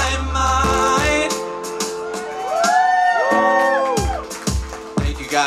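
A live music audience whoops and cheers after a song ends, bursts of shouting and rising yells rolling through the room close and fairly loud, with a few voices standing out above the crowd.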